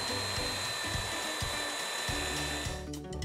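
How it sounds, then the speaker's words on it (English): A stationary belt sander smooths the top of a wooden pinewood derby car in a workshop, producing a steady whirring hum with a high whine and rhythmic abrasive pulses as the wood is pressed against the belt. "we use a stationary belt sander to smooth out the top of the car."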